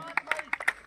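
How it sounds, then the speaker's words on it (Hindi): A quick burst of a few scattered hand claps greets a runner finishing a 1600 m race at a village running competition in Jogliyan, faint and brief, with voices talking over them. "ये योगी के लिए तालियां एक नंबर पे"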